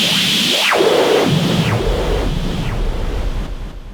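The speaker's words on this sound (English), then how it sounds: "this is like white noise" A Korg Mini Kaoss Pad puts out a loud, continuous white noise effect. A filter sweeps down and back up several times, giving a rushing, wind-like whoosh that gradually thins out toward the end.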